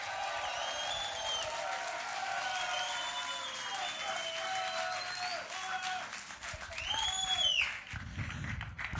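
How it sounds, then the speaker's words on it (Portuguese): Crowd applause and cheering for a contestant at a street rap battle, a sustained dense clapping wash with whistles and shouts that swells louder near the end. "Aí, salva de palmas para MC Kelso!"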